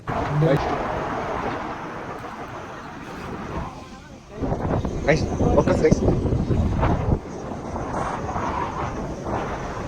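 Two-wheeler ride with heavy wind buffeting the microphone, loud rumbling gusts that dip briefly midway, with a voice talking over parts of it.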